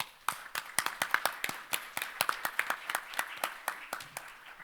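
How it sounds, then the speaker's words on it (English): Sparse, distinct claps ring out in a steady rhythm at a bunkering industry conference session, the individual hand strikes clearly separated and fairly close, suggesting a small number of people clapping. "we should give him a big applause for this achievement"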